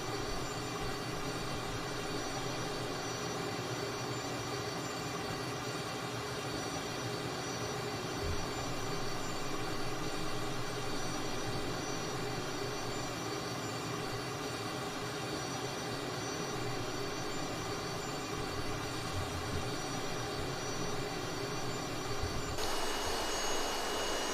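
A small plane's engine drones steadily and loudly for the whole stretch in a flight simulator game, a constant hum with no voices that shifts slightly in tone near the end.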